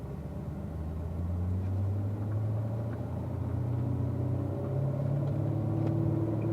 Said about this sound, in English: we're going to go ahead and enter the racetrack and do a nice warm-up lap